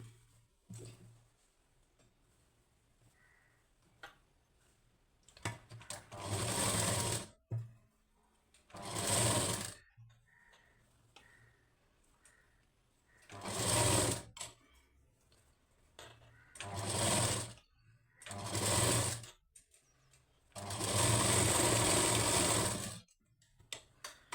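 A sewing machine stitches a lining blouse in six or seven separate runs of fast, even mechanical whirring, each lasting one to three seconds, with quiet pauses and faint handling clicks in between.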